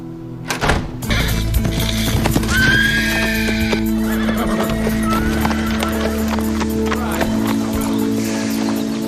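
A horse neighs loudly and close, a long whinny, while hooves clip-clop on hard ground throughout, steady and near, with faint background movement.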